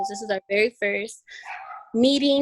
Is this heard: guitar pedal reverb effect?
no